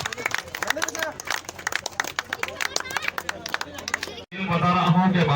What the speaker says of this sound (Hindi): जोरदार तालियां बजाकर आप सभी की तरफ से अभिनंदन करें।